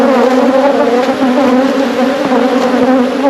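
Honey bees swarm loudly during a hive check, making a dense, continuous buzzing drone with a steady pitch, close and unbroken for the whole stretch.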